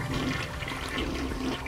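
A toilet flushes in the Red Faction video game, a continuous loud rush and gurgle of water that fills the whole moment without letup.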